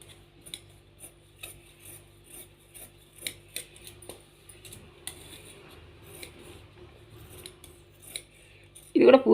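Scissors snip through blouse fabric in a series of short, light, crisp cuts at steady intervals, close and quiet, followed by a louder rustle of cloth at the end.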